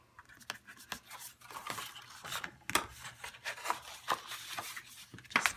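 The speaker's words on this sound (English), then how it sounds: "You can go over it with your bone folder." A bone folder rubbed along paper score lines while making a notecard box, giving close, brisk scraping strokes in an uneven rhythm, quiet and alone.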